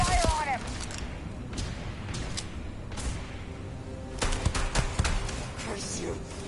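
Sci-fi gunfire in Starfield, bursts of shots and impacts scattered through the clip, mixed with game effects and a voice talking over the fight.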